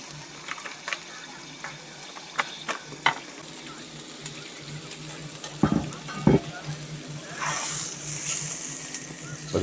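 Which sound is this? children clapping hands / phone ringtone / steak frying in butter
steak frying in butter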